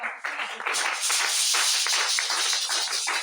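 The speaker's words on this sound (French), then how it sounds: "Tu vas applaudir pour ton Seigneur." Congregation in a church clapping together in a dense, steady burst of applause, close and loud throughout, with faint voices mixed in.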